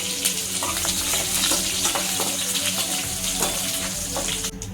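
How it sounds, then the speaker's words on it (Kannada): Curry leaves and garlic sizzle steadily in a hot pan for a tomato thokku, with a dense, continuous frying hiss and occasional stirring scrapes, close and fairly loud with no talk. "ಕರಿಬೇವು, ಬೆಳ್ಳುಳ್ಳಿ ಸ್ವಲ್ಪ ಫ್ರೈ ಆಗಬೇಕು"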